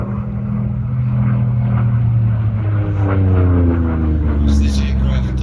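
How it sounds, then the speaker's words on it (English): A Yak-3U warbird with an R2000 radial engine flies past at an air show, its deep propeller drone loud and steady, the pitch falling as it passes, under a commentator's voice. "This aircraft fitted with an R2000 engine."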